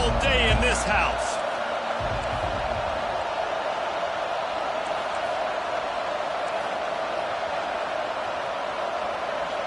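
A stadium crowd roars in College Football 25, a steady loud wash of cheering that holds throughout, with a brief thump and clatter right at the start.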